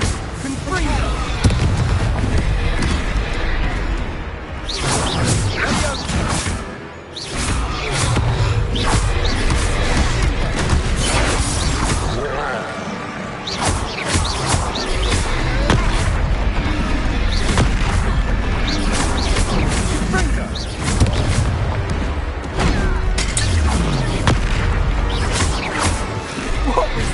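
Fire-spell explosions in Hogwarts Legacy combat come as loud, dense booming blasts and crashes, nearly continuous and mixed with game score and voices shouting.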